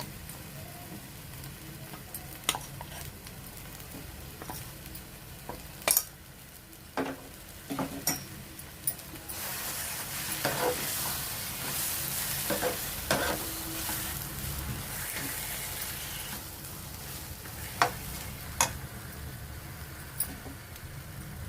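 Grated raw mango pickle with mustard-fenugreek powder is stirred and fried in a pan, giving a steady sizzle broken by sharp scraping clicks of the spoon against the pan.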